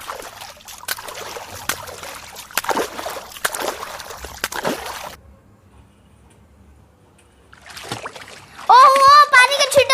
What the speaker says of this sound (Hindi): पानी के छींटे मारने वाली आवाज है।